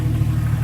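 A Jeep engine runs in a steady low rumble on a cold early morning, a close, even idle with no other sounds.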